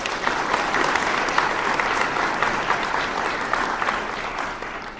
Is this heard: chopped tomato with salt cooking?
no